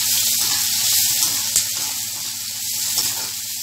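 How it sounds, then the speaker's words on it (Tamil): Onion, ginger and garlic sautéing in an oiled pan for rava kichadi, a loud steady close sizzle with faint stirring scrapes throughout and no voices. "இது நல்லா வெங்காயம் இஞ்சி எல்லாம் நல்லா வதங்கணும்."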